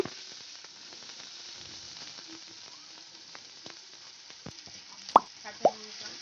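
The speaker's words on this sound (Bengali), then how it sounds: "এই মশলাটা আমি এখন এটা ভেজে নেব।" A paste of ginger, cumin, four green chillies and four garlic cloves fries in hot oil for a rui fish rezala, giving a steady close sizzle with a few sharp plops and clinks near the end.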